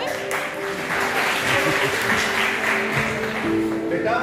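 An audience applauds steadily at a student induction program held in a hall. Dense clapping continues for about four seconds at an even level, with a faint hum underneath.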